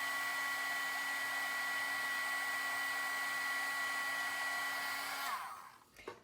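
A heat tool melts embossing powder on a pink Christmas folio. Its loud, steady hot-air whir runs close and unbroken, then cuts off near the end and winds down into quiet handling noise.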